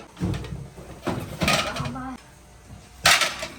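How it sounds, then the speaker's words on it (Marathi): Steel utensils clink and clatter in several bursts as they are set down and arranged for packing, with a person's voice in between. "ही जी भांडी आहेत ना इथे सेट करूया सर्व"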